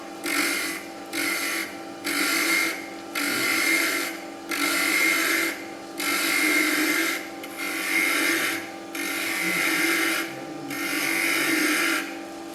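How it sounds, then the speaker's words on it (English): A roughing gouge cuts into wood spinning on a lathe, a loud scraping, rasping sound in about eight regular passes, each lasting about a second, with brief quieter gaps between them and close, steady motor hum underneath. "I'm going to start with my roughing gouge because it'll take up a lot of more meat than my spindle gouge right now."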